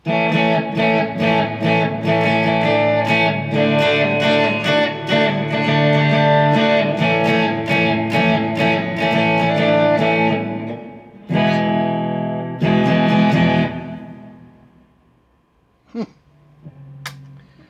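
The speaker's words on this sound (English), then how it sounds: "Just that little bit of, delay and reverb wetness" Electric guitar picking bright, ringing notes drenched in echoing delay and reverb, trails lingering and decaying into near silence before a few final plucks.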